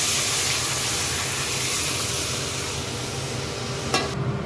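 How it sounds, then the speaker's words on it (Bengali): Dal poured into a hot pan with ginger for sukto dal, producing a continuous close hissing sizzle that stays fairly even and fades slightly toward the end, with a brief clatter near the finish. "এবার ডালটা আমি ঢেলে দিলাম।"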